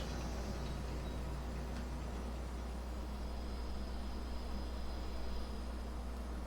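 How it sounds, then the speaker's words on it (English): A steady machine hiss made as an ambience cue for game audio, a continuous, even wash of broadband noise over a low hum. It holds at a constant moderate level with no talk. "Machine's hissing."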